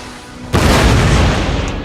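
French artillery in the video game Napoleon: Total War fires a single loud, heavy boom after a brief quiet moment. The blast then rumbles and fades slowly.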